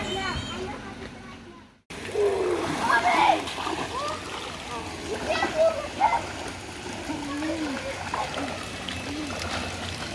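A child swims in water at an adventure park, splashing steadily and fairly close for most of the stretch after a brief quieter start, with voices calling out over the churning water.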